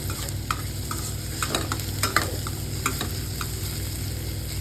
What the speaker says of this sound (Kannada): ಚೆನ್ನಾಗಿ ಫ್ರೈ ಆಗಲಿ ಟೊಮೆಟೊ ಆಯಿಲಾಗಿ